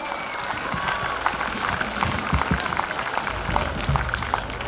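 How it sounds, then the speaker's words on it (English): Audience applause at a school investiture ceremony for Varnada Reddy, a steady, moderate patter of clapping from a crowd with a few cheers, continuing throughout. "A big round of applause for Varnada Reddy"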